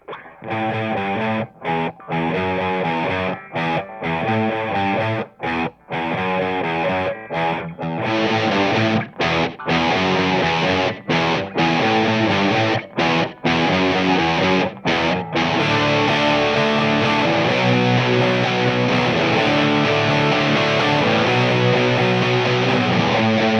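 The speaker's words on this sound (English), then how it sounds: "let's listen to all these guitars from the beginning and hear how they layer up" Thick layered distorted electric guitars play sustained chords, starting with choppy stop-start hits and then settling into a continuous, dense wall of sound.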